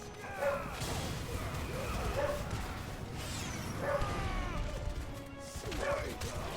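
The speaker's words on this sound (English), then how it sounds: "I don't know why the dog's barking." A dog barks a few times amid the sound effects and battle noise of the action role-playing game Final Fantasy XVI, short yelps spaced a second or two apart, with a voice talking alongside.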